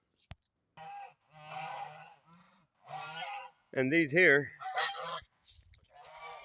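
Geese honking close by in a backyard by a mulch pile, several loud nasal honks in short bursts after someone briefly speaks.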